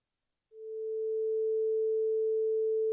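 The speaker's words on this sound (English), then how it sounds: "The first is a 440 hertz pure sinusoidal wave with an A sound." A pure 440 Hz sine tone sounds the note A. It rises smoothly from silence and then holds perfectly steady and unbroken to the end.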